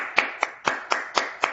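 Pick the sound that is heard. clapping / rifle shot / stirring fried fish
clapping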